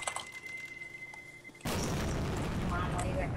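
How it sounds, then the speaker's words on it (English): A bomb detonates in the CS:GO video game, a sudden loud broadband blast arriving midway and holding as a sustained roar to the end, with quieter game noise and some talk beforehand. "That's what the bomb looks like when it explodes"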